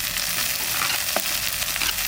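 Bitter greens fry in a pan with onion and chili, giving a steady, close sizzle with faint stirring scrapes and no talk.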